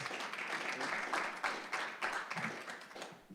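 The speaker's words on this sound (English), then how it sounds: "So Amy Comor, we give her a round of applause." A crowd applauds with a dense, steady patter of many hands clapping, which tapers slightly toward the end.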